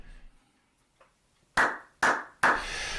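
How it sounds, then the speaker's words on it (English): Three sharp hand claps, loud and close, made to sync two cameras in a model-ship workshop, evenly spaced about half a second apart, each with a short ringing room decay, after a quiet stretch with a faint murmur. "Now this clapping business, that's so that later on when I'm editing it out"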